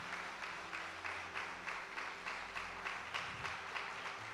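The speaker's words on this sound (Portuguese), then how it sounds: "dê um aplauso ao Espírito Santo" A church congregation at an Easter service claps in a steady rhythm, roughly two beats per second, with the sound filling the room at an even, moderate level throughout.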